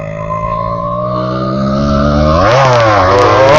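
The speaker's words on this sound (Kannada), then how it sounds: "ವೀಲಿ ಪಾಪ್ ಮಾಡೋಣ ಒಂದು" A motorcycle revved to pop a wheelie, the engine close and loud, idling steadily before its pitch climbs sharply in a hard rev near the end.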